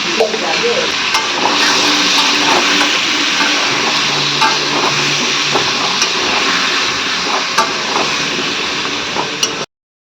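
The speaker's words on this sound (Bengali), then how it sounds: "ওদিকে আলু ভাজা হচ্ছে" Potatoes fry in oil with salt, giving a loud, steady sizzle that fills the whole stretch, with occasional stirring clatters and scrapes before it cuts off abruptly.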